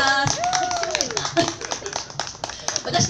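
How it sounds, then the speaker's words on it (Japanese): Audience at an outdoor eaves-side live gig at a roadside station clapping along, with steady rhythmic claps under a sung or spoken voice and light background bustle. "手拍子の方よろしくお願いします"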